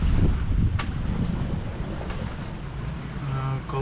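Strong wind roars across the microphone while waves slosh against the hull of a sailboat under sail off Dominica, wind around 10 to 11 knots; a steady, loud rushing with no voices.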